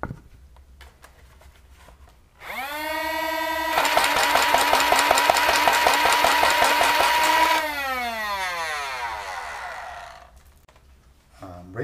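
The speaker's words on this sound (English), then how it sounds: "Rate of fire test with that same rapid strike with the upgrade motors but with the 3S" A Nerf Rapidstrike blaster with upgraded motors on a 3S LiPo whines loudly as its flywheels spin up, then fires a fast, steady full-auto burst of darts for about four seconds before the motors wind down, with no talking.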